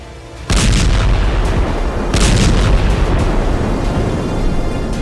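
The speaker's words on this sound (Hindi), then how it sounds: "इतने धमाके, इतनी तबाही" Heavy war-zone blasts and artillery-like booms in rapid succession, loud and close, with a dense rumbling roar sustained throughout and sharper bursts punching through.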